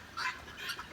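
Chickens clucking during heavy rain on a homestead in Eastern Kentucky, a few short, bright calls over about a second, moderately close.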